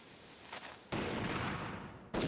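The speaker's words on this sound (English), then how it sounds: "Sorry for the sounds of gunshots ringing out through your house." Gunfire from the 2004 adventure video game Return to Mysterious Island: a burst of loud shot noise, fading, then a second sharp report cutting in right at the end.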